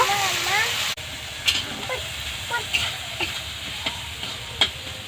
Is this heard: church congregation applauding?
no